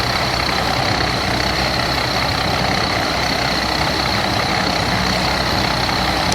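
A Tamco S7000 combine harvester engine in a Farming Simulator mod drones steadily at a constant pitch, loud and unchanging throughout, with a faint high whine above it and no voices.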